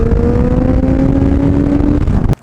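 A Triumph Street Triple motorcycle engine holds a steady, loud, high revving whine with a whistling growl, then cuts off abruptly near the end.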